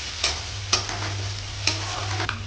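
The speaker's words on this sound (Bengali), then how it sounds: "এই রসুন বাটাটা আবার কিছুক্ষণ নেড়ে চেড়ে নেব" Garlic paste stirred into fried onions in a hot pan, with a steady sizzle underneath and a few sharp scrapes of the spoon recurring at irregular intervals, close up and fairly loud, no talking.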